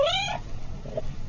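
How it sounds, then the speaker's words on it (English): A cat meows once, loud and close, followed by a fainter second meow over a light background hiss. "cat,"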